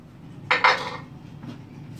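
A metal lid clanks onto a pot of frying meat for a Moroccan beef tagine with prunes: two quick close clatters, then a fainter knock, over low sizzling.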